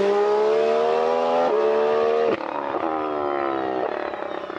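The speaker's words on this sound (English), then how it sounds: "This is Alonso coming around the first corner." Alonso's race car rounds the first corner with a loud, close engine roar, the pitch climbing and dropping through several quick gear changes and lifts before easing off as it passes.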